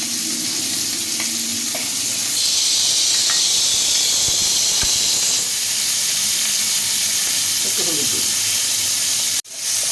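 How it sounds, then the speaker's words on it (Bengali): Salted shrimp hiss and sizzle loudly in hot oil in a kadai already used for frying potato and pumpkin. The steady, dense frying noise runs throughout, with occasional stirring clinks and a sharp knock near the end. "এই তেলে আমি চিংড়ি মাছটাও দিয়ে দেবো নুন মাখানো আছে চিংড়ি মাছটা দিয়ে দিচ্ছি"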